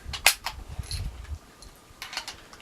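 Swedish M38 Mauser rifle fired at a steel plate downrange: a few sharp, brief cracks in two quick pairs, fairly close, with quiet gaps between them.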